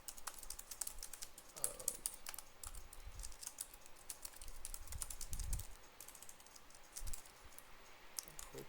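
Computer keyboard keys tapped in quick, irregular bursts of soft clicks at close range, alone in a quiet room with faint low thumps.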